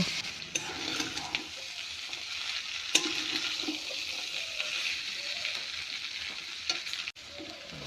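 Boiled kabuli chickpeas tumble into a pan of frying spice masala for ghugni, setting off a steady close sizzle with scraping stirs and a few sharp spoon-on-pan knocks throughout, no voices.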